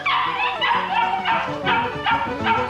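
Several dogs bark, yip and whimper in kennels, a loud, continuous and overlapping chorus close by with no gaps and no talk.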